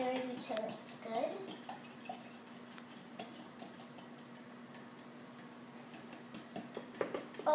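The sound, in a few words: stirring buttermilk, baking soda, vanilla and egg batter in bowl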